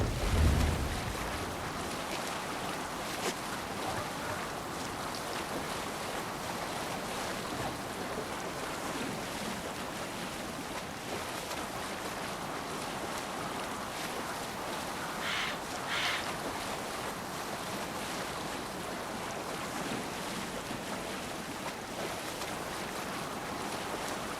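Viking longship under sail on open ocean in Assassin's Creed Valhalla: a steady rush of wind and waves washing against the hull, with a low thump at the start, and no talk.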